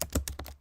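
Quick bursts of key clatter from a Bluetooth keyboard, several rapid taps close to the microphone ending in a brief silence.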